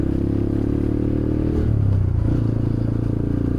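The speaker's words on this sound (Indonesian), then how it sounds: "Suara gua motornya berisik banget guys." A noisy motorcycle engine runs close and loud, a steady low rumble with rattling, clattering texture and a brief swell partway through, no voices over it.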